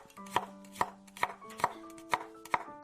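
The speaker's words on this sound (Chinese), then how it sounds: "准备几个干辣椒切成段，一把大蒜切成片。" A knife slices garlic cloves and dried chili peppers into pieces on a cutting board, with six crisp, evenly spaced chops heard up close and alone.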